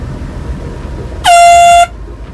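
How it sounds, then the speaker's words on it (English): A single loud, steady ship's air horn blast sounds for about half a second over a low, constant rumble of background noise, on a calm, foggy morning entering a channel. "One long blast on the air horn."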